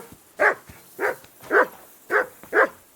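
A dog in the medieval video game Kingdom Come: Deliverance 2 barks five times at an even, roughly half-second pace, close and fairly loud, with no voices.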